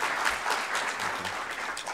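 A panel audience gives a round of applause for a game director, a short, steady burst of many hands clapping at moderate distance.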